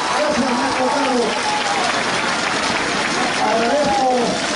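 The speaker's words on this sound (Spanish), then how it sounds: "¡Fuerte el aplauso para recibirlo!" A large crowd at a campaign closing rally in Misantla, Mexico, sends up continuous applause and cheering that stays loud throughout. A voice talks over the crowd noise.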